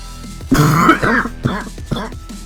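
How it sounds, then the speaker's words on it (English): A close, hoarse cough followed by a few shorter coughs and throat-clearing bursts. "I knew that cough was going to surface eventually."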